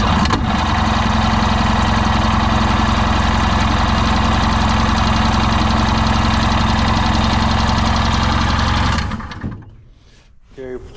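An 85hp jet boat engine being cranked and run roars loudly and steadily with a rough, knocking idle, then cuts out abruptly near the end, leaving sputters and quiet.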